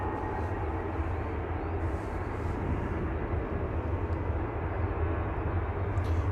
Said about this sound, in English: Ryanair to Madrid on the roll,